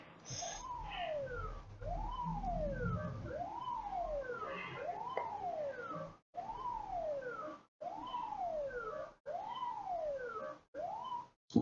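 A toy police car siren wails in a repeating rising-and-falling electronic tone, about eight cycles, fairly faint and close, cutting out briefly several times near the end.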